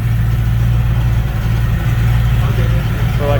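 A Fox Body Mustang idles loudly with a steady, deep engine rumble throughout, running without seats.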